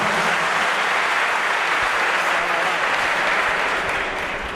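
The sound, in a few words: prison audience applause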